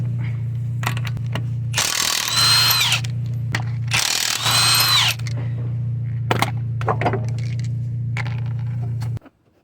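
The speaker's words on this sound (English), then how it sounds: "Next, I'm gonna be removing the 21mm lug nut." Impact wrench or power ratchet removing a 21mm lug nut from a Toyota RAV4 wheel, with two loud bursts of high-pitched whirring over a steady low machine hum, followed by scattered metallic clicks and clanks.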